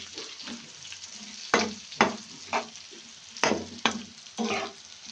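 Fish frying in a hot pan for a rice breakfast, a steady sizzle broken by several sharp scraping and stirring bursts, close and fairly loud, with no voices.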